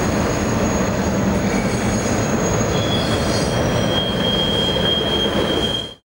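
A train crosses railroad tracks directly overhead beside the St. Joe River, loud and close, with steady rumbling and high, drawn-out wheel squeals, until the sound cuts off abruptly.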